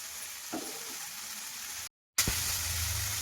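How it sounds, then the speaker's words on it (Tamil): Drumstick leaves frying in hot oil with onion, tomato and garlic, a steady close sizzle and hiss, broken once by a brief gap and then a stirring clatter as the frying resumes. "முருங்கைக்கீரைங்கிறதுனால நல்லா கொஞ்சம் எண்ணெயிலே வணங்கணும்"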